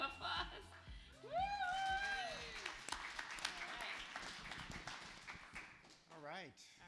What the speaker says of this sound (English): let's definitely give him a big round of applause